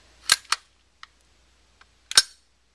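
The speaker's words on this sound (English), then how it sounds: "the other thing I really like about this gun is the clang sound it makes at the end" Umarex Glock gas blowback CO2 airsoft pistol cycling, its slide clanging sharply: two quick metallic cracks, a couple of faint clicks, then a final crisp clang, all close and without voices.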